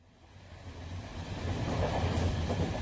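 Rumbling interior of a moving train bound for Newcastle, a steady low drone with faint rattling that slowly grows louder, no voices.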